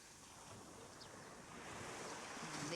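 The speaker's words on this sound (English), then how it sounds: "They can be swallowed by the waves somehow." Ocean waves wash onto Baler beach, the surfing spot in Luzon, a faint, steady surf hiss that swells slightly toward the end, with some wind noise.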